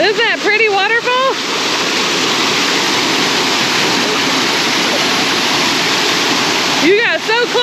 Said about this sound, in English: Isn't that pretty waterfall?